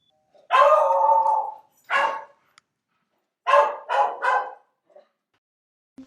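A Blue Heeler barks in a short production logo sting: one long bark-like burst, then a short one, then three quick barks in a row, loud and close, with a doorbell-like chime quality and silence between.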